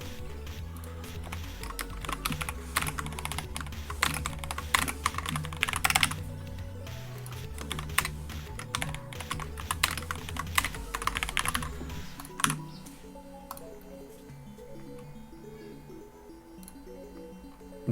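Computer keyboard keys clatter in steady bursts of typing, with some keys sticking, close and continuous, then a quieter stretch near the end with a faint background hum.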